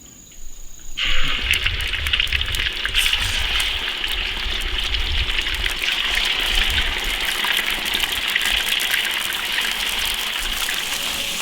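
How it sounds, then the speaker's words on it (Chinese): Pieces of duck hit plenty of hot oil with a sudden loud hiss, then a steady, dense sizzling and bubbling continues up close without a break. "油温7热炸鸭子，"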